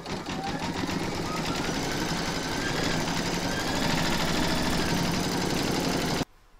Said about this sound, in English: pop your hoop back into your machine and stitch round number two